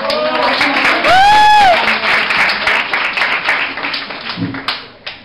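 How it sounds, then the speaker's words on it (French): Audience at a stage presentation of Mathias Malzieu's Metamorfosis en el cielo gives an ovation: a close, loud burst of clapping, joined briefly by a rising whistle-like tone, fading out over a few seconds. "Je vous demande déjà de faire une ovation pour Isabelle qui sera ma voix espagnole"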